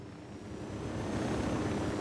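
A helicopter flying in the video game Ghost Recon Wildlands gives a low, steady rotor and engine drone that swells slightly louder over two seconds, with no talk over it.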